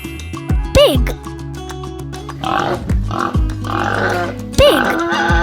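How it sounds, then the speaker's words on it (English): Domestic pig grunting and oinking in a few loud, close bursts, each rising then falling, over a steady background of other noise. "Pig."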